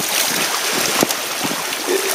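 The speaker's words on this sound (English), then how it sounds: "it's nothing big by any means, but just a little bit of wave action" Small waves slap and wash continuously against the outrigger floats (amas) of a Classic 16 sailboat, with steady wind noise and a few louder splashes, close and loud.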